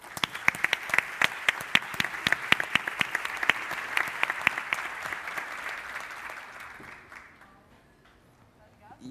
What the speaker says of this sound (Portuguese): Palmas para minha querida Ana.